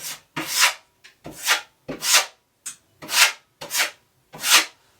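Flexi filling knife scraping peeling paint off a bathroom ceiling, seven or eight rasping strokes in an uneven rhythm with short pauses between, close and fairly loud.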